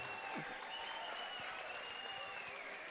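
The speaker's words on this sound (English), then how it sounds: "both fighters a big round of applause, man." Steady applause from a large boxing event crowd in Pharr, Texas fills the whole stretch, a dense continuous wash of clapping with no pauses.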